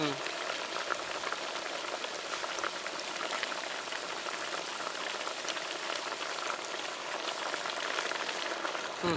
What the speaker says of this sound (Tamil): நெய் ஊற்றுறேன்